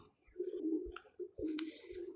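A pigeon coos in low, throaty phrases close by, with brief pauses between calls and a faint rustle near the end.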